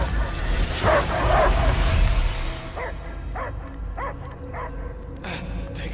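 In Marvel's Guardians of the Galaxy video game, a dog gives a run of sharp, evenly spaced barks and yips, close and loud, after a burst of rushing noise and brief speech.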